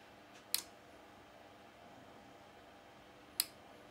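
A Kenwood KA-305 amplifier under repair gives two sharp, isolated clicks a few seconds apart, crisp and close against a faint hiss.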